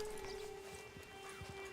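Horse hooves clip-clop softly in Red Dead Redemption 2, a few faint, uneven steps beneath a steady background hum.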